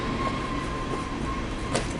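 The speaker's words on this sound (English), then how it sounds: "Train. I hate the train." A train rumbles past close by, a loud, steady rushing roar with a thin high whine running through it and a brief sharper squeal near the end.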